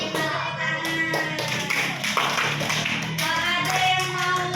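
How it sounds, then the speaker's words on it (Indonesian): A class of fourth- and fifth-grade pupils claps hands together in a classroom, a dense, steady patter of many hands held close by for several seconds, with a bit of voice mixed underneath. "Oke, kita tepuk tangan."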